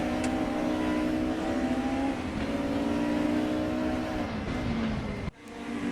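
A BMW DTM touring car from 1992 races in a video game at the Hungaroring, its engine droning loud and high with pitch dropping through gear changes, then cutting off abruptly near the end.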